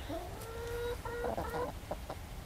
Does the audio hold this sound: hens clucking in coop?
yes